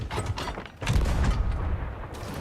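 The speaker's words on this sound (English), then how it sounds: "Shooting a cannon, showing how it sounds splashing into the water." Heavy booming cannon shots in the video game Sea of Thieves, with a low rumble, followed by rushing, splashing noise as shots hit the water; loud and close, with no talking.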